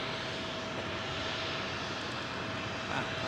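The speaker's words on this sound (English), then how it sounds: "Singapore 777 Star Alliance livery next in" A Singapore Airlines Boeing 777 in Star Alliance livery arriving low at London Heathrow, a steady broad engine roar heard from outside, even and sustained throughout with no talk.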